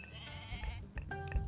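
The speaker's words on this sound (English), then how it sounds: "And we have some goats." Goats in Age of Mythology: Retold give a few short, faint bleats over soft game ambience, with no one talking.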